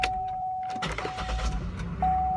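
A 2003 Buick LeSabre with the 3.8L 3800 Series II V6, which starts hard when cold, cranks briefly and catches with a low engine rumble, followed by a steady idle whine, heard close with no talking.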